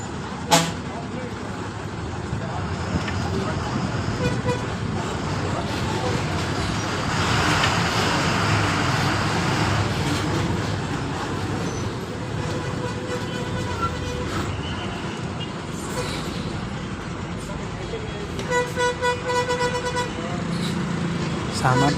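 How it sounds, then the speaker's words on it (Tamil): Heavy road traffic rumbles around a TNSTC BS6 bus on the Pollachi–Karur route, slowed by roadwork, with engine drone, passing trucks, an air-brake hiss and several short horn toots cutting through, while people talk over it. "செம டிராஃபிக்காக இருக்குங்க அந்த ரோடு ஒர்க்னால"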